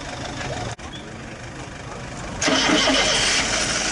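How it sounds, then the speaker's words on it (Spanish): A 1991 SEAT Málaga 1.5 injection car engine cranks briefly and catches, then settles into a steady, louder running hum with a faint voice underneath. "Van a poner en marcha este SEAT Málaga."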